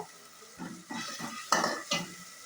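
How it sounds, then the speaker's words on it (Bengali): Ground spices including Kashmiri chilli powder, turmeric, cumin and coriander are sautéed in a pan, with several short scraping stirs of a utensil over a soft sizzle; no talking. "এখন আমি মশলাটাকে ভালোভাবে কষিয়ে নেব"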